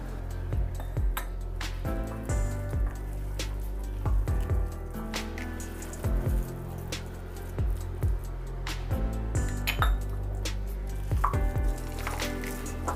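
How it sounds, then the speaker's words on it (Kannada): A hand mixes bonda batter with a little water in a bowl, producing wet squishing, slaps and occasional clinks in an irregular rhythm, close and continuous. "ಇದಕ್ಕಿವಾಗ ಸ್ವಲ್ಪನೇ ನೀರು ಹಾಕ್ಕೊಂಡು ಕಲಿಸ್ಕೋಬೇಕು"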